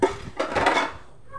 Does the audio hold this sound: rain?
no